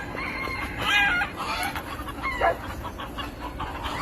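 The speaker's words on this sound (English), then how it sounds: "Looks like we got 5 roosters against 1 hen." Five roosters and one hen in a farmyard scuffle, with repeated close clucks and squawks and a crowing call mixed into a busy, loud flurry.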